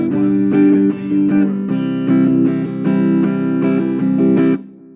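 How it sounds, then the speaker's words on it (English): Acoustic guitar strumming a chorus pattern, a steady, even rhythm of up and down strokes on sustained chords, close and fairly loud, with no voice over it. "So the chorus strumming pattern really straightforward, simply 1 and 2 and 3 and 4"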